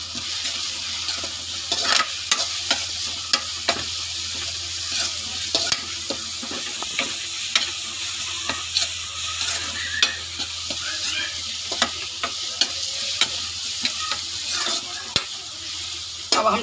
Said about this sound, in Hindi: अब प्याज हमारी भुन गई है, अब हम डालेंगे इसमें मसाले।